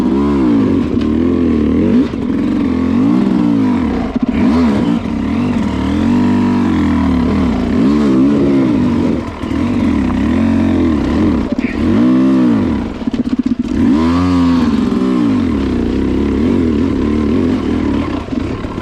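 A hard enduro motorcycle ridden off-road with rough clutch control: a loud, close engine that revs and falls unevenly, lugging and surging in jerky bursts with rattling and clatter throughout.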